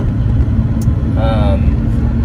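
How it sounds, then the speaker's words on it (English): A Porsche 930 Turbo's engine drones with a steady low rumble throughout, heard close from inside the car, and a brief voice cuts in partway. "there's that turbo kick in"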